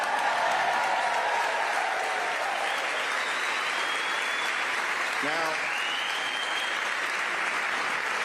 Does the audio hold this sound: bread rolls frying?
no